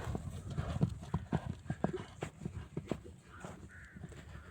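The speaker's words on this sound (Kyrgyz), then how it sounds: "Ойнок болгон ат экен мынакей достор" A young horse for sale walks with a clear, rhythmic clip-clop of hooves on hard ground, close and steady, while crows caw faintly in the background.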